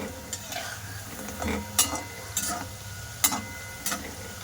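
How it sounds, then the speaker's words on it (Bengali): Gaja dough sticks frying in hot oil over low heat for gur kathi, giving a steady bubbling sizzle with occasional sharp clinks and scrapes of a utensil turning them, close and moderately loud. "এবার আমি গজাগুলো সব ভাজা করে নেব।"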